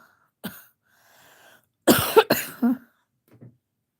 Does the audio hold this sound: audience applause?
no